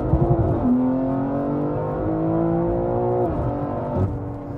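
A 1000hp stage 3 BMW G80 M3 pulls hard in third gear on wet streets, its loud, close engine note climbing steadily in pitch with a brief dip near the end, and no talking.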